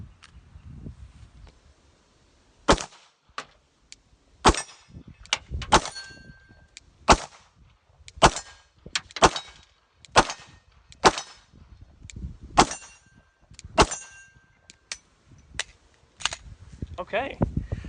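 A Glock pistol fitted with a drop-in trigger fires about fifteen loud, sharp shots in irregular bursts, each crack close and brief with a short ringing tail, and no talking between them.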